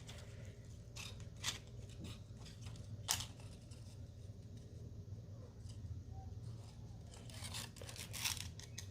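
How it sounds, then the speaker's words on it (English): Scissors snip a chunk of cord during a paper-craft project. Several sharp, quiet cuts fall at irregular intervals over a low steady background hum, with no voices. "you're going to take your cord, cut out a nice chunk"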